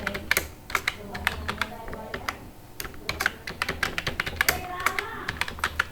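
Someone types a password into an online scholarship form on a computer keyboard: quick, irregular key clicks close by, coming in bursts with short pauses throughout.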